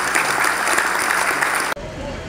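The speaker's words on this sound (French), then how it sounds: "Félix-Antoine Tshisekedi Tshilombo, sous les applaudissements de l'assistance." An assembled audience applauds at the end of a speech by the president of the Democratic Republic of the Congo, Félix Tshisekedi: loud, dense, sustained clapping that cuts off abruptly near the end and gives way to quieter room sound.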